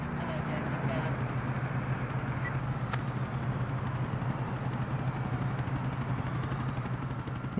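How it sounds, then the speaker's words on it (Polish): Police helicopter in the video game GTA 4, a steady, droning rotor and engine hum that holds throughout the clip, with someone talking over it. "Śmigłowiec wysłali za mną."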